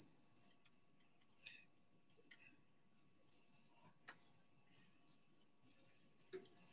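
Crickets chirp in short, repeated high trills with small gaps, fairly faint against a quiet background, with no voices over them.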